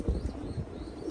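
Pigeons cooing close by, a few low soft coos in short bursts with faint chirps and rustling among the birds.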